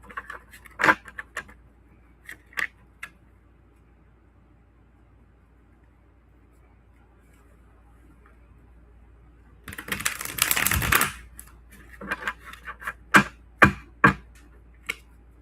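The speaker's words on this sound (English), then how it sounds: "Let me shuffle up these cards" Tarot cards being shuffled: scattered crisp riffles and taps, then a dense burst of card shuffling near the middle followed by several sharp snaps and flicks, close and otherwise quiet.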